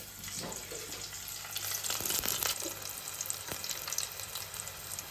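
Marinated mushi fish crackles and sizzles in hot oil, a steady bubbling hiss with sharper spits and pops now and then.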